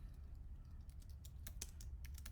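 Quiet, steady clicking of keys on a computer keyboard, a short run of light taps close to the microphone over a low hum.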